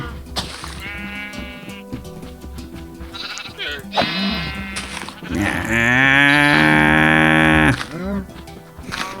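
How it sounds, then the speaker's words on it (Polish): Cows in the Minecraft video game moo loudly and close in a series of drawn-out, overlapping calls, with a long sustained low moo near the end and some bleat-like cries mixed in. "Tutaj jakieś dwie zbędne krowy."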